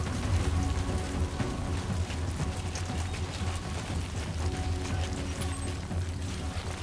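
Steady rain falls in the video game Dead Standing 2, a dense, even hiss of drops with a low rumble beneath that continues without a break.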